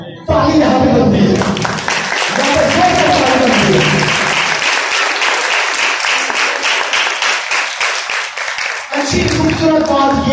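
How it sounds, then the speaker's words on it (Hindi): A crowd breaks into loud, dense applause during a Hindi-language religious address. The sustained clapping fills the middle of the stretch, and a speaker's voice is heard before it swells and again as it tapers off. "ताली यहां पे बनती है"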